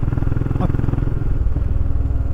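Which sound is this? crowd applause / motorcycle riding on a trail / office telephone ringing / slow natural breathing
motorcycle riding on a trail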